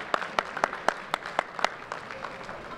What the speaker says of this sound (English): Let's give ourselves a hand of applause for that.